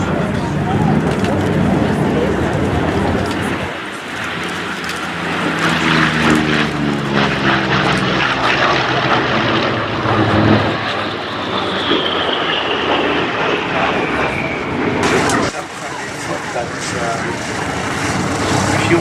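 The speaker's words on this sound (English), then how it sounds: "This is the ultimate expression of fighter aircraft designed around the piston engine." A piston-engined fighter aircraft flies past at an air display, its loud propeller drone rising and falling with a sweeping pitch shift as it passes, under steady talk throughout.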